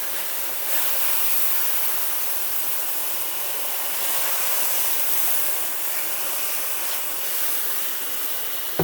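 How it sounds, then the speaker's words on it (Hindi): Water poured into roasted semolina for sooji halwa, a steady loud rushing hiss that swells and sizzles continuously through the whole stretch, ending in a brief sharp clatter. "फिर इसमें मैं पानी डालूँगी"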